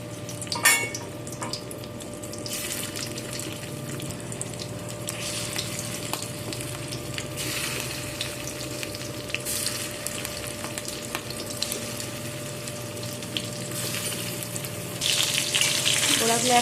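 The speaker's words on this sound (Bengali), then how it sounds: "তেল গরম হয়ে গেছে, সব ডিমগুলো ভেজে নেব।" Fish egg fritters fry in hot oil in a kadai, giving a steady close sizzle and crackle that runs throughout, with light stirring and utensil sounds and a louder burst near the end.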